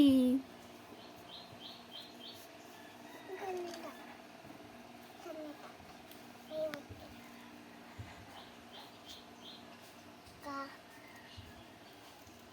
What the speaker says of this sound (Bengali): দেখো পাখি কেমন শব্দ করে